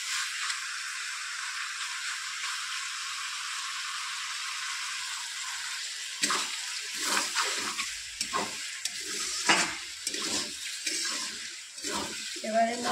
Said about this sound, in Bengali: ততক্ষণে একটু নাড়তে হবে এইভাবে।